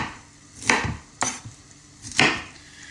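Three crisp knife chops through cauliflower florets onto a cutting board, each a sharp thud with a brief crunch, close and separated by short pauses, with no voices.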